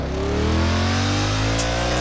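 Motorbike engine revving steadily in a video game, a loud continuous drone with rising and falling tones and no pauses.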